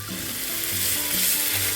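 Meat or sausages grilling in a pan at home in Korea, a steady close sizzle and crackle of frying that runs continuously and evenly with no talking.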